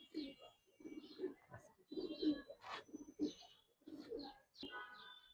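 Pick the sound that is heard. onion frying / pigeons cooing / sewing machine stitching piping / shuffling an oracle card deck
pigeons cooing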